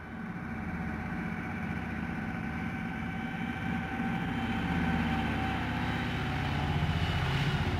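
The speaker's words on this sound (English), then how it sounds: "The Caribou takes off on its third trip to Thule. It circles and returns to land." A Caribou propeller aircraft taking off and flying on a trip to Thule, a steady, loud, throbbing engine and propeller drone that builds slightly in strength over several seconds, with no voices.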